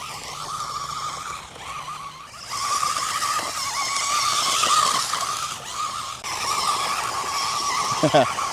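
A budget 2S electric RC short course truck spins donuts on sand, its motor whining steadily over gritty, skidding bursts that rise and fall, close to the recorder.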